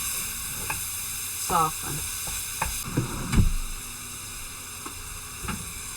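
Chopped vegetables cook with sausage in a pan for Louisiana dirty rice, sizzling steadily and loudly up close, with a few scraping stirs and a brief spoken word.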